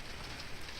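Steady rain hiss with scattered drops on surfaces in Beppu, blended with the soft ambience of steam vents, even and close for under a second with no voices.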